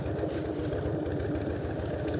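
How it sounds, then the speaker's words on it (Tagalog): A Harley-Davidson Fat Boy motorcycle with a slightly noisy engine rumbles nearby in Villar City, its deep, throbbing exhaust pulses holding a steady rhythm throughout. "Pagpasensyaan nyo na, may konting ingay itong motor natin. Alam mo naman na tunog bangka."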